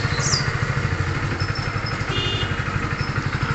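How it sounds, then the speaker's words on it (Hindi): A BS6 fuel-injected motorcycle engine runs just after starting, a loud, close, steady idle with a rapid, even chugging pulse and light mechanical clatter throughout. "बाइक अभी फाइनली स्टार्ट है"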